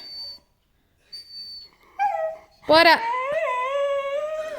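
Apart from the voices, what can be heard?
dog Caesar howling instead of barking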